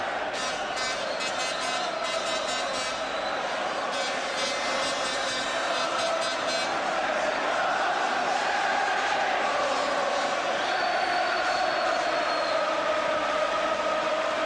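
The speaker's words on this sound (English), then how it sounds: "the crowd's noise slightly subsides" The crowd at a homecoming world featherweight title boxing bout keeps up a dense, steady roar that fills the arena, with indistinct chatter and cheering under it throughout.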